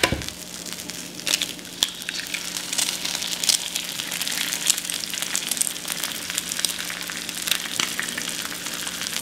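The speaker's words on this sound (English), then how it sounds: "So I'm gonna cook the egg right here." An egg fries in butter in a hot pan, giving off a close, continuous crackling sizzle with small irregular pops throughout.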